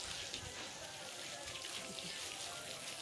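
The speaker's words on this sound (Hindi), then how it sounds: "पानी से धुलाई का काम चल रहा है छत पे।" Water splashes and streams continuously across a concrete rooftop being washed, a steady hissing wash heard from close by, with faint voices in the background.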